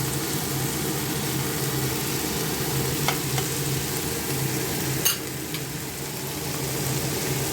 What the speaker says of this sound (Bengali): পেঁয়াজগুলো ভালো ভাজা হয়ে গেছে, সব পেঁয়াজ, টমেটো, কাঁচা লঙ্কা।